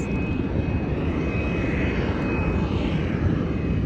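Jet airliner engines roar steadily at O'Hare airport, heard from behind a fence; a constant loud broadband rumble with a thin high whine, no talking.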